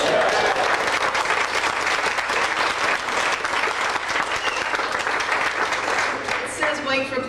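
A crowd at the KansasFest 1995 Apple II convention claps steadily and loudly throughout, dense sustained applause from a full room, fading into a few scattered claps at the end.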